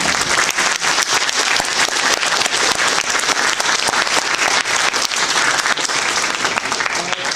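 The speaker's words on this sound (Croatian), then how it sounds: "molim još jedan aplauz za Ninu" Audience applause fills a hall at the closing ceremony of a winter informatics school in Krapina, dense, sustained clapping from many hands, loud and steady throughout.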